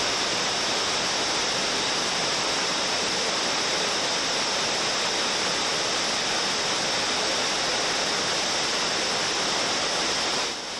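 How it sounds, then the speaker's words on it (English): A rushing waterfall pouring as a steady, dense wash of broadband water noise, constant and even in loudness, with no voices. "The waterfall was not as large as the legends made it out to be"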